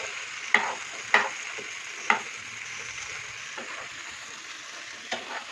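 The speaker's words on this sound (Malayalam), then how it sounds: "അപ്പോൾ ഇത് കുറച്ച് നമുക്ക് നന്നായിട്ട് മിക്സ് ചെയ്ത് കൊടുക്കാം" Prawn fry stirred in a pan over a low steady sizzle, with three sharp metallic spatula knocks early on and softer scrapes later.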